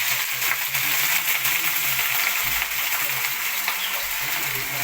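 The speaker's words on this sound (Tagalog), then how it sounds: "Ilalagay na natin ngayon yung ating gabi. Yan. Kasama na natin sa gisa guys." Chunks of taro hitting a pan of sautéing aromatics for a milkfish soup, a steady loud sizzle with hissing frying noise running unbroken from start to end.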